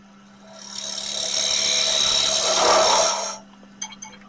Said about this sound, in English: then sand the box outside to 240 and apply 2 coats of oil